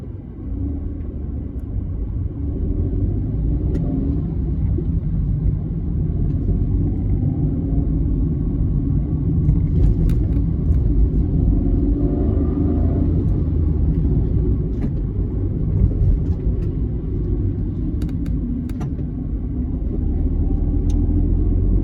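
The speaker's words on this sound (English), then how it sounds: "See, these minibus taxis just drive" A steady low rumble of Johannesburg street traffic with minibus taxis driving past, engines droning continuously and fairly loud, with a few faint clicks and knocks on top.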